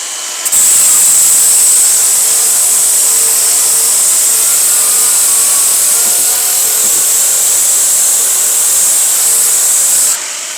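An angle grinder fitted with a Distar diamond polishing pad works on ceramic tile, a loud, steady high-pitched whine with a grinding hiss underneath, starting abruptly and cutting off after about ten seconds, no voices.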